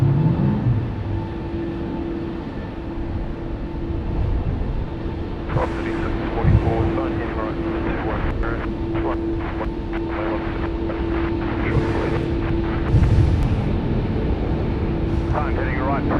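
A Singapore Airlines airliner takes off from Sydney Airport, its engines a steady distant roar heard under intermittent radio chatter and nearby voices.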